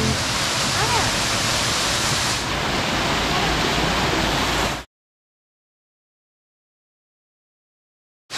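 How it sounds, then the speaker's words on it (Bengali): The waterfall at Rock Garden in Darjeeling gives a loud, steady rushing roar of falling water, close and unbroken for about five seconds before it cuts off into silence. "গাইস এইখান থেকে দেখো পুরো ঝর্ণাটা দেখা যাচ্ছে"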